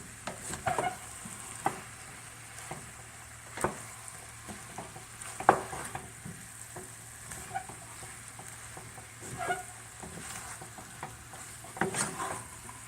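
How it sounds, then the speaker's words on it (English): Chili paneer and tofu chunks being stirred in a pan, with a steady low sizzle of frying under intermittent scraping and clinking strokes of the spoon against the pan. "And we're going to stir it all together."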